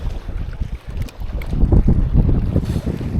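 Gusty wind buffeting a microphone on a small bass fishing boat in spring, a steady low rumble throughout that grows stronger in the second half.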